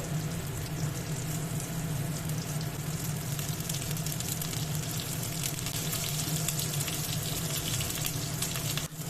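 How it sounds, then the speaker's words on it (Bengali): Pointed gourds (potol) frying in oil in a wok, giving a steady, dense sizzle that runs unbroken and fairly close for the whole stretch, with no voices over it. "এবার পটলগুলো আমি ভেজে নেব। মুখের দিকটা শুধু ভেজে নেব"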